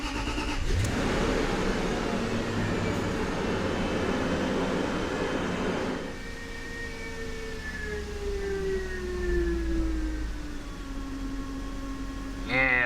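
A Range Rover Sport's engine turns over and settles into a steady idle around 600 to 700 RPM, with a loud broadband start giving way to a quieter, even hum with faint whining tones.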